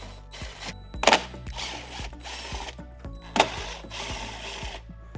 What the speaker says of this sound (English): So this is a T30 Torx. And we're just gonna keep it on very low.